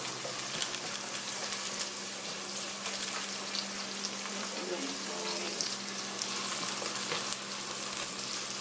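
Oil and onions frying in a pan in a home kitchen, a steady, fairly faint sizzle running throughout with occasional small stirring clatters.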